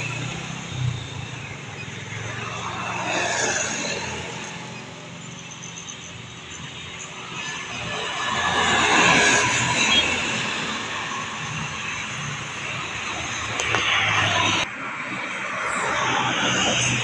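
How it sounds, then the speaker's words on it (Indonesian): A Medan Jaya bus with a Tentrem Scorpion X body passes on a Sumatran highway, its engine roar and tyre rumble swelling and fading steadily, with a second surge of traffic noise later. "Melintas satu unit lagi nih, Medan Jaya, body tentrem Scorpion X."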